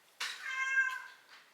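A single cat gives one clear, drawn-out meow up close while begging for salmon in a kitchen, tapering off at the end against a quiet background.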